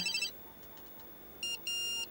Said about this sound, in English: Oh, sorry. It's my new mobile phone.